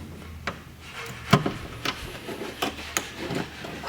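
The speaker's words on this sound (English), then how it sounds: "I'm going to break all the Bondo and everything off." Bondo body filler being cracked and broken away from a rusted Honda Del Sol quarter panel, a series of sharp, separate snaps and scraping knocks at irregular intervals, close and fairly quiet with no talk.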